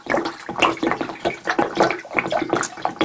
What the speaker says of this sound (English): First thing to do is add some water.